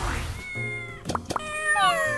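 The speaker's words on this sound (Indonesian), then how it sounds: "Nah, lo banyak kucing." Cats meowing in the Android RPG Sakurato Gakuen: a steady, clear feline cry to start, two short sharp clicks, then another higher meow and a rising call at the end, all loud and close.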